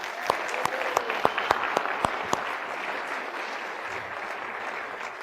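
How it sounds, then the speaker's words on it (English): An audience gives a round of applause, with a few sharp, close claps standing out over a steady crowd clapping that tapers off toward the end. "So I'd like to give her a round of applause."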